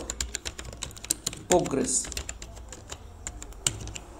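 Brisk clicks of typing on a computer keyboard run through the whole stretch, close and clear, while someone talks over part of it.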